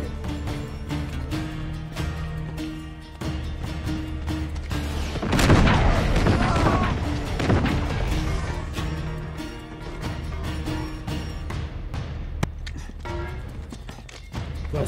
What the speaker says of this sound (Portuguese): A explosão aqui foi meio bugada